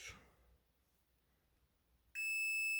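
A multimeter in continuity mode, probing contacts on an LG VX8300 phone, sounds a sudden steady high-pitched beep near the end of an otherwise quiet stretch, close and sustained.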